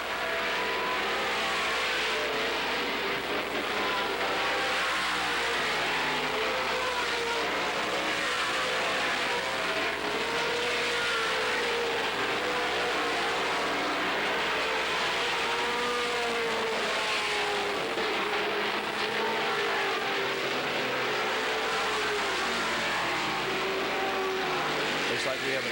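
Race cars lapping the Las Vegas Speedrome during the 1985 Sunkist Fall Classic, a continuous roar of engines rising and falling as they circle, heard from a distance beneath a race announcer's commentary.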